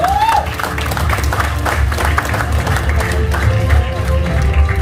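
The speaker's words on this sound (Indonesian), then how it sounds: "Kita kasih kesempatan tepuk tangan yang sangat luar biasa untuk top leader Bapak Suharjo." Audience at a PT BES gathering applauds top leader Bapak Suharjo: a steady wash of clapping and crowd noise over a loud low rumble, continuous for about five seconds.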